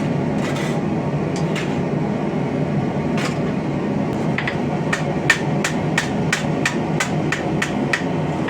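Cut metal pauldron pieces are hammered flat on an anvil at a forge, sharp ringing blows coming sparse at first, then in a quick steady rhythm, close and loud over a low background rumble.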